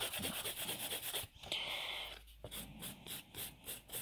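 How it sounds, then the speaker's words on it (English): A nail file rubs over the top of gel nails in short, close scraping strokes that repeat in a quick rhythm, broken by a brief pause partway through. "Now we're going to file over the top."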